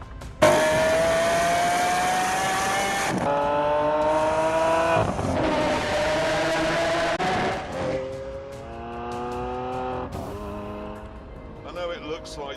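A Rimac electric supercar driving in The Grand Tour Game, a loud rising whine as it accelerates hard, then shifting tones and a brief tire squeal near the end, with someone talking over it.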